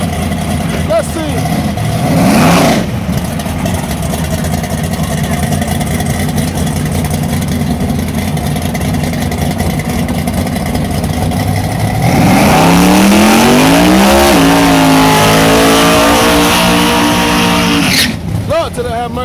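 Drag race cars, the 7-Up Mustang against Candyman Racing out of Dallas, with a loud continuous engine roar that rises into a sweeping rev near the end, while an announcer talks excitedly throughout.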